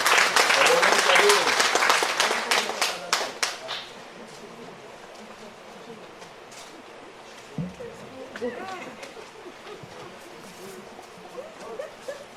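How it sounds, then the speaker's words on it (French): Guests at the swearing-in of a town's elected officials applaud the second deputy mayor, a loud burst of clapping that fades after about four seconds into murmuring and scattered claps, with voices audible. "Merci d'applaudir le deuxième adjoint au maire"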